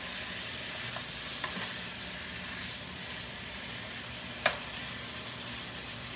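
Steak sizzles steadily in a stir-fry pan with a constant hiss and two brief clinks of a utensil, and no talking.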